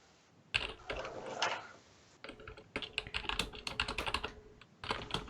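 Computer keyboard typing in bursts, rapid clustered keystrokes with short pauses, close and fairly clear with no talking.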